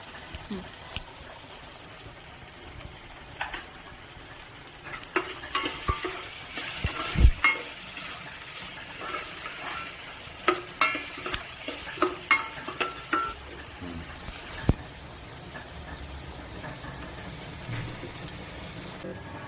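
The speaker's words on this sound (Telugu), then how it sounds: "సో ఆనియన్స్ అయితే ఆల్మోస్ట్ ఫ్రై అయిపోతున్నాయి." Onions fry in a pan for gongura prawn curry, giving a low continuous sizzle with intermittent scraping stirs and clinks, moderately close, and with no talking.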